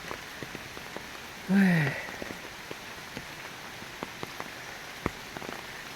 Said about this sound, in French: Le temps de savourer la musique de la nature, de la pluie, des feuilles.